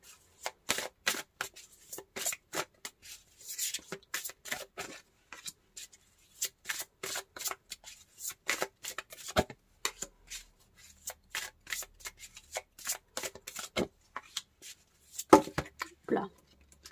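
Tarot cards shuffled by hand in quick soft bursts of riffling and rubbing, close and fairly quiet, with a brief pause midway and no talking.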